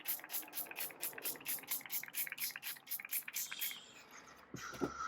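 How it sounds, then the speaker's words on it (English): Water spritzed from a spray bottle onto a gel print: a quick series of soft, hissing pumps in the first few seconds, faint and close, then a few quieter handling noises. "spray with water."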